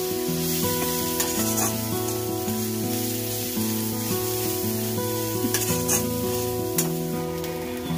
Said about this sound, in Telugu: ఇలా ఉల్లిపాయలు వేగిన తర్వాత